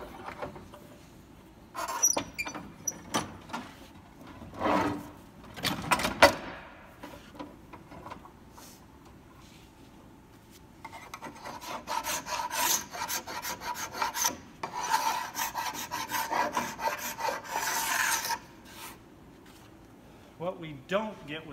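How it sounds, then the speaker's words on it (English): A hand scraper peels old finish off a wooden blanket chest panel, giving repeated rasping strokes in bursts of varying length, close and fairly loud, with someone talking between and over the strokes. "use the clamps to hold it so you can put both hands on the scraper"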